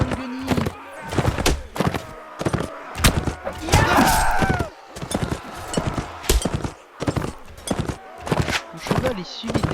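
Horse hooves gallop in Mount & Blade: Warband, a steady rapid thudding gait close by with a burst of clashing battle noise midway, while someone talks over it.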